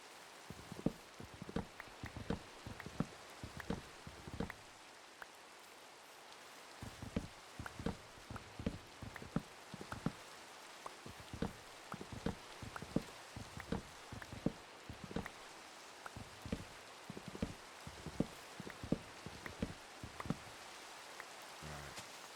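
Steady Minecraft rain patters in the background while sharp wooden knocks and clunks of chopping wood repeat at an uneven rhythm throughout.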